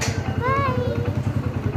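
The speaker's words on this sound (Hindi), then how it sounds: "चलो पुष्टू बाइक पे बैठ गई है" A motorcycle idles nearby with a steady, low, pulsing engine thump while a voice speaks over it.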